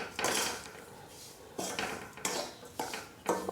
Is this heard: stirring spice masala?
yes